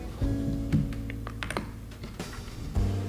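Typing on a computer keyboard fitted with new keycaps: a close run of crisp, uneven key clacks with a few heavier thumps, without talk.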